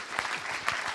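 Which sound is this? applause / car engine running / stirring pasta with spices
applause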